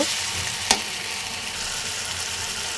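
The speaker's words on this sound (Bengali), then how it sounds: "রসুন বাটা আদা বাটা দিয়ে কিছুক্ষণ আবারও এটাকে ভালোভাবে মিক্সড করে নেব" Garlic and ginger paste fries in oil for a Tengra fish curry, a steady close sizzle broken once by a sharp utensil knock against the pan, with no talking.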